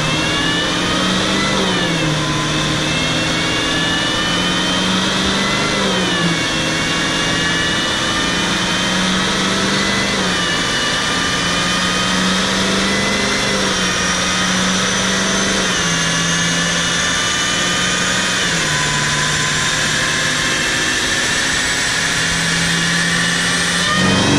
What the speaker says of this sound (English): gonna need one more dyno pull